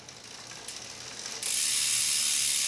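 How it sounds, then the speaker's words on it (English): A Retrospec bicycle rear hub freewheel clicks in a fast, steady ratchet buzz. It grows louder and brighter about halfway through, as if the wheel is spun harder, with no talking. "listen to this retrospec hub that I never heard of"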